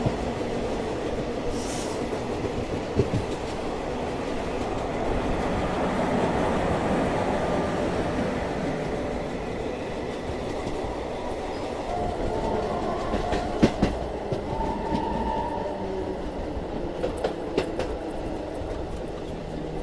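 Delhi–Prayagraj special train running into Kosi Kalan station, with rhythmic clickety-clack of wheels over rail joints, a rumbling carriage drone and intermittent sharp metallic squeals and clanks as it slows.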